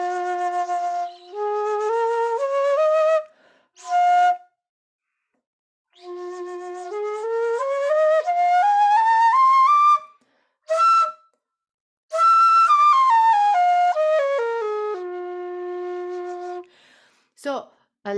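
Japanese shinobue bamboo flute played alone in a sequence of breathy, whistle-like held notes stepping through a scale unlike a piano's, with short pauses between phrases and a few brief breath noises.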